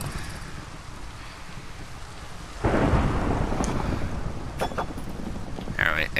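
A Minecraft thunderstorm brings steady rain hiss, then a loud, sudden rolling thunder crash that keeps rumbling, with a voice talking over it.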